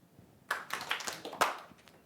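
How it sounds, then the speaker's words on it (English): A few scattered hand claps from people in a presentation audience, sharp isolated smacks spread unevenly over a couple of seconds in a quiet room. "And when you do that, clap your hand."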